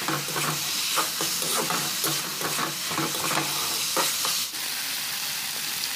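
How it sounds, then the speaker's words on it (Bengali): Kantola (spiny gourd) stir-fries in a covered pan, a constant sizzle broken by repeated scraping stirs at a quick, regular rhythm, close and fairly loud, fading to a steadier hiss near the end. "ঢাকা দিয়ে এইভাবে আপনারা অনবরত নাড়াচাড়া করে কষতে থাকবেন।"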